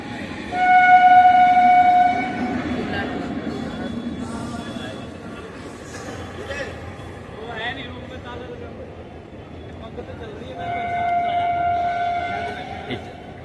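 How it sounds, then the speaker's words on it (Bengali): A train crosses a bridge, its horn sounding loudly twice, at the start and near the end, over a rumbling run of wheels, while someone talks over it. "এই ব্রিজে এখানে একটা ট্রেন যাচ্ছে, দেখুন এই দেখুন ট্রেন যাচ্ছে।"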